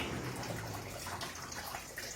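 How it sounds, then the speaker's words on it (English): Water pump of a Kenstar 90L air cooler running, water splashing and trickling back into the tank as a steady close wash without pauses. "The water splashing back into the tank becomes louder than the fan itself."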